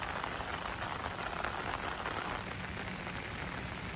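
Steady rain pours during village flooding, a dense, even hiss of falling water with no pauses and no voices.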